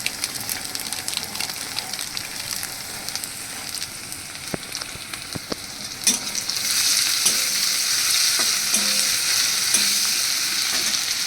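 Three green chillies and Kashmiri chilli powder fry in a pan with jeera-chilli paste, a crackling sizzle with scattered pops that swells louder and steadier in the second half.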